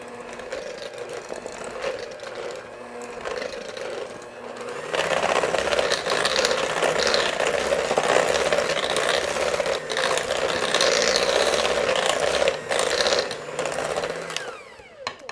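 A stand mixer on low speed beats cinnamon cookie dough with flour and baking soda. It gives a steady mechanical whir and rattle that grows noticeably louder and busier partway through, then runs on evenly.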